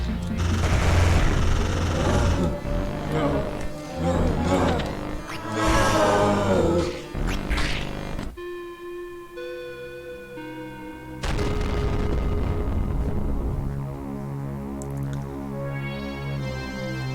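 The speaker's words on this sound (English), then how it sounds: "Time to destroy the ship." Ship destruction in the Clive vs Hives 2 video game: a dense barrage of loud crackling blasts and booms for about eight seconds, then ringing electronic tones and layered synthetic effects fill the rest.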